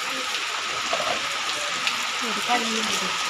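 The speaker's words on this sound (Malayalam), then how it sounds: "ജസ്റ്റ് ഒന്ന് മഴ കൂടിയിട്ടുണ്ട്" Heavy rain falls during a bicycle ride, a constant close hiss of drops with faint tonal squeaks and a couple of brief bumps over the wash.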